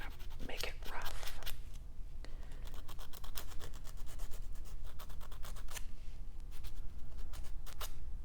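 Close, dry scratchy rubbing of a buffer roughening fingernail new growth, in repeated quick strokes with short pauses, soft and intimate.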